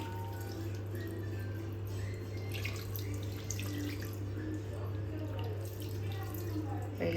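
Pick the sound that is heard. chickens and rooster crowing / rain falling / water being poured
water being poured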